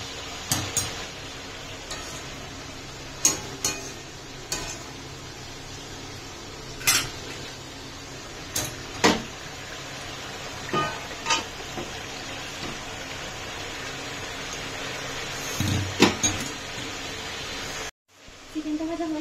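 Salted chicken pieces fry in a pan for chicken kosha while a metal spatula stirs them, making sharp, irregular clinks and scrapes over a faint, steady sizzle.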